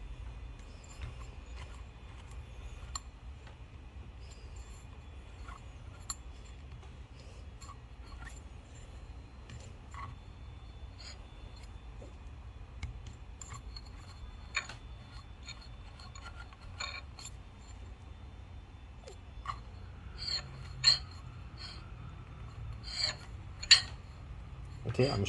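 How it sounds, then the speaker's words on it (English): Burrs of a DF64 coffee grinder lightly touching each other as the adjustment is turned: a quiet, steady low hum under faint, scattered scraping ticks and rasps that grow a little more frequent toward the end. "You can hear the two burrs touching each other."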